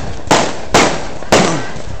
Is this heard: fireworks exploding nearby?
yes